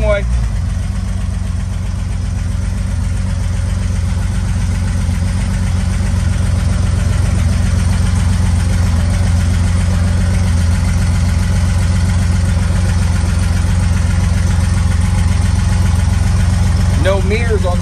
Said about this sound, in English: If it's noisy, I apologize. I do not have the cover on the engine back there.